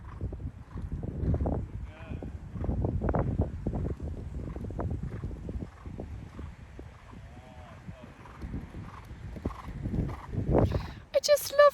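A horse trots in a riding arena during a lesson, with rhythmic hoof clip-clops running under a woman's spoken instructions, with some wind noise across the microphone.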